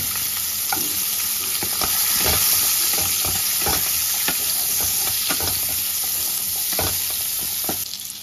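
Chopped hog plums hit hot mustard-seasoned oil and sizzle loudly and continuously, with a series of stirring scrapes and taps against the pan close by.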